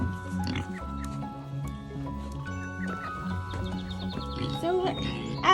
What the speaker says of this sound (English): pigs love mud, and pigs love to get their pool muddy